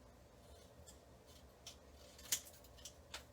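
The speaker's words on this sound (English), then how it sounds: "We're just going to cut this." Scissors cut through paper card stock for a handmade greeting card, making a few quiet, crisp snips in a calm room.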